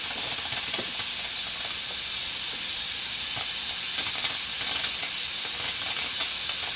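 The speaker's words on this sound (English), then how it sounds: "Now when I notice it's not frying as much as I want" A pot of okra stew sizzles and hisses steadily as it fries, the crackle continuous and fairly loud throughout.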